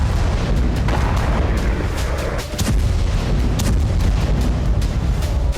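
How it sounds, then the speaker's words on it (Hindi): Continuous heavy rumble and crackle of Russian phosphorus bomb explosions in the Ukraine war, loud and dense, with repeated sharp bursts and booms layered over a roaring background and no voices. "ये रूस का फास्फोरस बम है, जो बेहद घातक है।"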